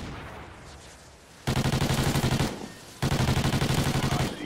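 Rapid automatic gunfire in the video game Call of Duty Ghosts, two loud, close sustained bursts of evenly spaced shots separated by a short pause, with quieter background game noise before.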